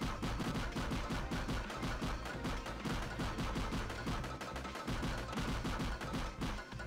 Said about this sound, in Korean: 빨리 쏴.